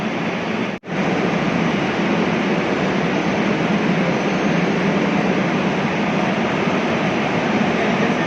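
A metro train carries its passengers with a steady, loud rumble and rushing roar that continues without a break, apart from one sharp momentary dropout near the start.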